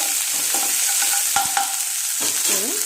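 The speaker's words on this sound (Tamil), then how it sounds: "இந்த ஸ்டேஜில் இந்த இஞ்சி பூண்டு பேஸ்ட்டை ஆட் பண்ணிக்கலாம்." Ginger garlic paste fries with chicken in a hot pan, giving a loud, dense sizzle close up. A few sharp scraping stirs and a spatula scrape are heard near the end, with no voices.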